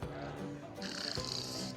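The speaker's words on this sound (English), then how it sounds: "this is the mayor snoring" Recorded snoring of the mayor plays from a receiver at a themed restaurant in Lviv, with rough breathy rasps under faint background noise.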